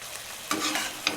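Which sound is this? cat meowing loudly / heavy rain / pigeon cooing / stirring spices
stirring spices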